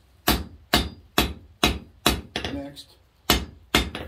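Steel being hammered while forging a firepit poker: a steady series of sharp, loud hammer blows on the anvil with a brief gap of scraping in the middle, close by; a voice speaks a word.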